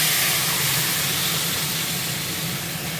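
Dry chili, bay leaf and panch phoron sizzle in hot oil in a home kitchen, a steady, close, continuous hiss that holds even for about three seconds with no talking.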